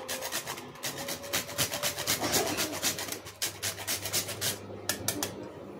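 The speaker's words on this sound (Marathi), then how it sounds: "यावरच आपल्याला थोडंसं सुंठ पण किसून घालायचं आहे." Dried ginger grated by hand over a jaggery sanjori dough mixture, a close run of quick rhythmic scraping strokes with a brief pause midway, steady and moderately loud with no talk.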